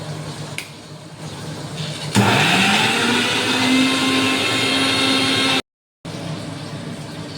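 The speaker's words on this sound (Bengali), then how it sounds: "এবার মিক্সিতে ব্লেন্ড করে নেব ভালো করে।" A mixer grinder blending fish head with fried dried chillies, whirring loudly and steadily after a quieter start, cutting out abruptly for a moment near the end before resuming.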